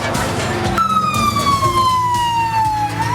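An ambulance siren in Gaza after an attack, a loud wailing tone that slowly falls in pitch over a bed of traffic and crowd noise.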